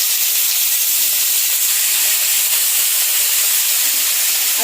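Potatoes go into a pan of hot oil with onion and garlic, and a loud, dense, even hiss of sizzling and steam sounds up close without a break.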